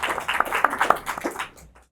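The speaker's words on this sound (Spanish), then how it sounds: "Les pido un aplauso para nuestros dos invitados especiales y para Javier." An audience at a talk on animals in the work of Javier Vásconez gives a short round of hand clapping for invited guests, a quick flurry of claps that fades out within two seconds.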